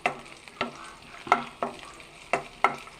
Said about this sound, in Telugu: చూడండి, క్యారెట్ ఫ్రై చేస్తున్నాను